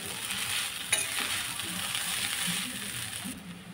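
Chicken chow mein sizzles in a pan while being stirred and tossed, a steady crackling fry with a brief sharp scrape of the utensil near the start.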